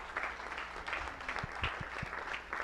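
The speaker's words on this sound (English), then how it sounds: "Let's give a round of applause to the first customer experience group." A workshop audience gives a round of applause, a soft, fairly faint wash of clapping with a few distinct low thumps partway through.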